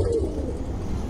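Pigeons coo softly and steadily at close range around a feeding parent and young bird, a low continuous burbling without any talk.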